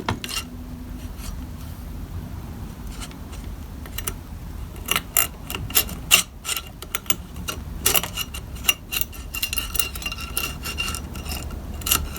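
Metal screwdriver scraping and clicking against a stripped oil pan drain plug in a tight space, giving a run of irregular close ticks and taps over low background hum, with no talk.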